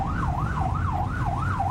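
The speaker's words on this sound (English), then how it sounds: "So we always go lights and sirens." An EMS ambulance siren wails in a steady rapid yelp, rising and falling about every half second, loud and close over low road rumble.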